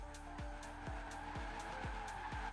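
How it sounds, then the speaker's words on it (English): Car tires skid and squeal steadily while drifting in Forza Horizon 4, with a revving engine beneath and repeated rhythmic gear-shift sweeps about every half second. "So without further ado, let's get into some skidding."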